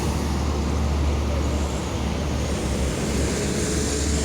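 Bus and car engines drone loudly and steadily in a traffic jam on a road, a dense, unbroken rumble of idling and crawling vehicles.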